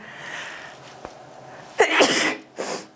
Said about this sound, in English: When I'm sad, I sneeze.